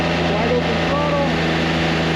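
An engine at wide open throttle drives a hydraulic system, a loud, steady close-up drone with a constant low hum and a faint rising whine, while a voice talks over it.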